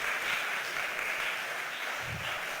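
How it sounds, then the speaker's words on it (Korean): Church congregation applauding to encourage and thank the staff, a short even burst of hand-clapping heard from within the room. "우리 박수로 한번 격려하고 칭찬하도록 하겠습니다"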